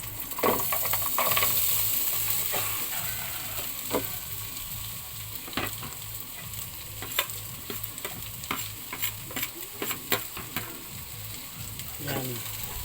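Corn kernels sautéing in a frying pan, a steady close sizzle broken by scattered scrapes and clicks of a utensil stirring against the pan, no voices.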